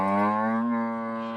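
Cattle on a pasture in a rural farming area of the DR Congo give a long, loud, steady moo with a rich harmonic tone, slightly falling in pitch and fading a little at the end.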